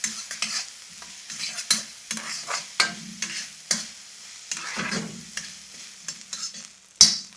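Onions fry in a pan until golden brown, with a quiet sizzle under repeated scraping stirs from a spoon, ending on one sharper knock.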